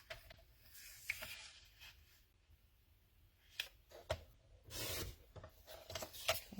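Paper is trimmed for a scrapbook layout, with quiet scraping and rubbing strokes from a paper trimmer, intermittent soft slices and small clicks close by in a quiet room.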